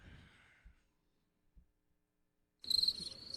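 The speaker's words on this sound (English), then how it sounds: "Crickets. Nobody wanted to hear that." A crickets-chirping sound effect plays on a live radio broadcast: a sudden, bright, steady chirring that cuts in after a near-silent pause and runs to the end.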